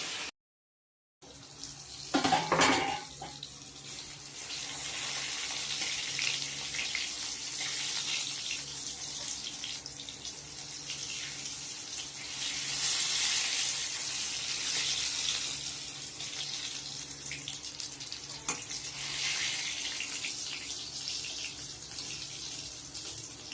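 Water poured from a vessel into a fish curry simmering in a home kitchen, a continuous splashing hiss lasting over twenty seconds with slight swells in loudness, close by and with no talking.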